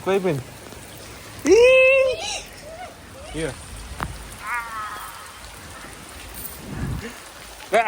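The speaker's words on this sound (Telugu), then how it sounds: "అంత వర్షం పడుతుంది ఇగో ఫుల్ వర్షం అయిపోయింది" Steady heavy rain hisses and patters all around, while a voice and other voices call out over it now and then.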